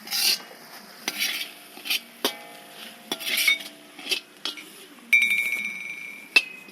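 Chicken fried rice being stirred in a pan: repeated scraping clatters of a utensil against metal in an uneven rhythm, with a faint sizzle underneath and a few sharp clinks near the end.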